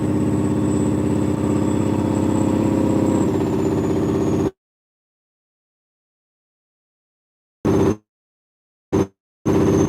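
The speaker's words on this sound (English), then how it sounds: "now I'm gonna go up on my Jake a little bit so I don't go too much as far as my RPM" A truck engine brake holds back a heavy rig descending Monteagle with a loud, steady droning roar for about four seconds. It then cuts to silence, broken by a few short bursts of the same drone.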